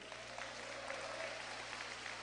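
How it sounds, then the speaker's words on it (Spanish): Church congregation applauding during a Spanish-language sermon, a soft, steady patter of many hands heard faint and distant over a low background hum, with no voices over it. "Tribute un aplauso al Señor."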